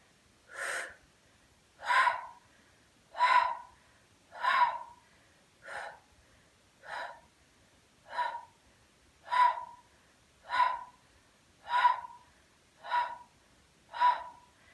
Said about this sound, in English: And now adding the exhale.